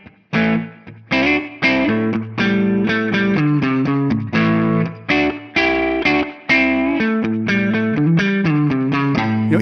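An electric guitar played through a spring reverb effect on Tonex 1.8 chugs out a run of distorted chords and single notes in a steady rhythm, each attack followed by a short ambient tail, loud and up front.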